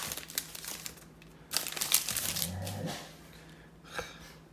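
Foil wrappers from Leather and Lumber trading card blaster box packs crinkle close to the microphone as they are cut open with scissors, in short, quiet bursts of crumpling separated by brief pauses.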